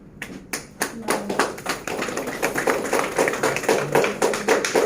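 A group claps hands rapidly and loudly, a dense run of sharp overlapping claps building after a few scattered opening claps and continuing steadily to the end.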